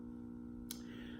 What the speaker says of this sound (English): You can probably hear the hum of that amplifier right behind me right now.